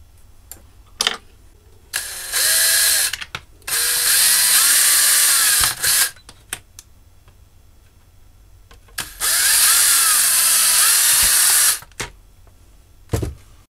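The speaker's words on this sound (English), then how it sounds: "So onto the back plate, I've just drilled one hole and another hole with a cut in it." Power drill boring holes in a back plate for a DIY video converter build, several loud close bursts of whining motor a second or two long, separated by quiet gaps and small handling clicks.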